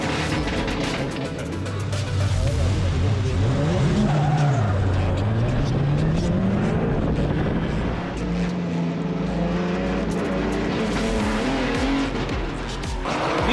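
A race car engine roars and wavers while tires squeal and skid in a long spin-out slide, loud and continuous, with crowd or commentary noise underneath.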